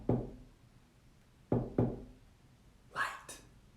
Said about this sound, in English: This is how God knocks